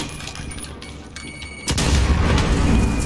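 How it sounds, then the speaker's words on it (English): Video game explosions boom behind the players in a Call of Duty match, a quieter stretch of rumbling gunfire giving way to a loud, sustained blast wash that fills the rest of the clip. "There's a lot of explosions coming behind us"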